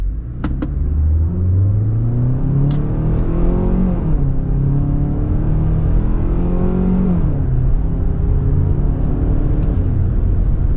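A 2026 Kia Sportage LX AWD compact SUV engine revs up steadily under load, its pitch climbing and then dropping sharply at two manual-mode gear changes before rising again; loud, continuous, close-up.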